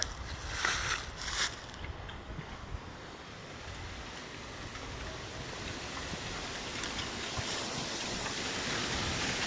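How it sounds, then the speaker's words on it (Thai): Steady winter wind rushes and roars through bamboo tops beside rice fields, with gusty swells near the start and a constant airy hiss throughout; no voices. "เสียงลมพัดยอดไผ่"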